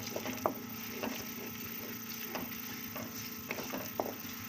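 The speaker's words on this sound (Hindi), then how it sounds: "ये हम इसमें प्याज कटी हुई डाल देंगे, हल्का ब्राउन इसको करना है" Chopped onions sizzle and fry in half a cup of hot oil in a kadai for aloo palak, a steady close crackling hiss with occasional stirring scrapes throughout.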